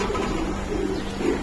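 A male pigeon of a fancy colored breed, held in the hand, gives a low, continuous cooing murmur at close range, with no talking over it.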